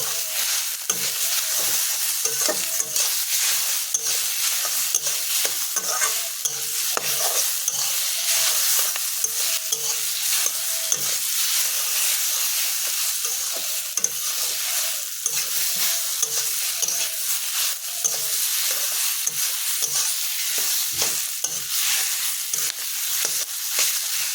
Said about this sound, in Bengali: হালকা একটু গরম মশলা গুঁড়ো দিয়ে দিলাম। একটু নেড়ে চেড়ে নেব।